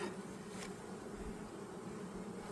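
Honeybees buzzing around an open hive during spring splitting of full-size colonies, a soft continuous drone with a low steady hum and no voices.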